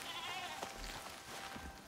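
A chamois bleats faintly in the survival game Icarus, one soft wavering call heard at a distance amid quiet background ambience.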